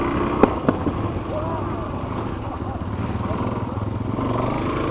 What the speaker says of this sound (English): Mark's on a big XR 650. I'm on the DRZ 400